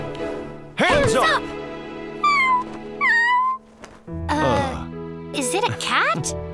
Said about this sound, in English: It was just a cute little cat that caused all this fuss.